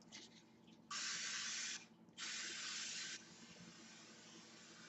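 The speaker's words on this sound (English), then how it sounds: "now take your spray and spray 2-quart" Cooking spray hisses into a 2-quart casserole dish in two close, steady bursts of about a second each, separated by a brief pause, over a quiet kitchen background.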